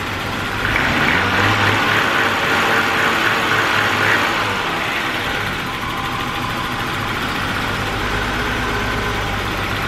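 A BMW E30 325e six-cylinder engine idles smoothly after maintenance, a steady low rumble with even mechanical whirr, loud and close throughout, with no talking.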